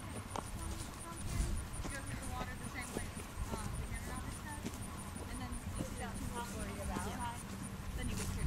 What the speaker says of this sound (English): Horse coming.